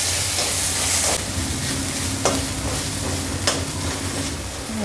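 Onion sautéing in a pan for mushroom fried rice, a steady close sizzle with a few sharp scraping stirs, loud at first then settling into a continuous frying hiss.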